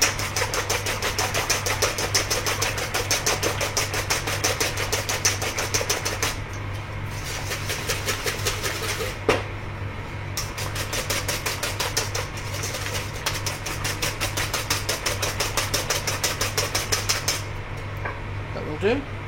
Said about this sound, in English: whisk your eggs